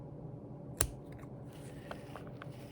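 A single crisp snip of scissors through cotton wick for a Smok Fetch Mini RPM RBA coil, close and clean in a quiet room, followed by a few faint small clicks of handling.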